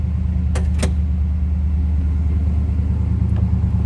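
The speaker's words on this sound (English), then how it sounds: "Car seems to run very smooth. Sounds good." A 1981 Chevrolet Camaro Z28 engine idles with a deep, smooth rumble close by, steady throughout, with a couple of brief clicks near the start.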